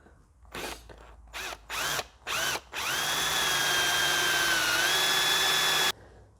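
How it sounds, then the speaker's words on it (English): A power drill bores a hole in scrap wood for a rustic ladder: several short, close whirring bursts, then one steady, sustained drilling run of about three seconds that stops abruptly. "where I've drilled a hole"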